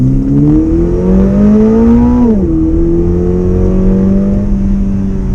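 A 2022 Subaru BRZ's 2.4-litre four-cylinder engine climbs steadily under hard acceleration, briefly dips at a gear change, then rises again, loud and close from inside the car with no talking.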